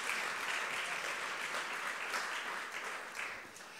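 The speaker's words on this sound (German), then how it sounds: "Ich finde schon, dass es einen Applaus bedarf," Audience applause at a German talk event, a dense, sustained wash of many hands clapping, steady and loud before easing slightly near the end, with no voices over it.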